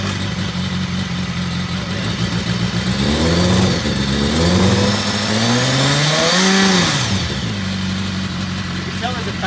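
A 2016 BMW S1000RR motorcycle fitted with an SC-Project Conic exhaust fires up for the first time. It idles loudly and close, then revs up and down in rising and falling sweeps before settling back to a steady idle.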